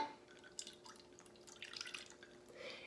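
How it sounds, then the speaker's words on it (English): Water poured into a container gives a faint, soft trickling and splashing that runs continuously for a few seconds at low volume. "So I have water here, and I see that this is a liquid. If I pour it into a container,"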